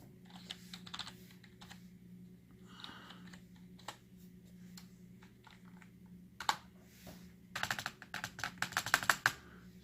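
Typing on a RECCAZR MC500 gaming keyboard, with scattered single key clicks at first and then dense, rapid bursts of clacking keys near the end over a low steady hum, with no voices.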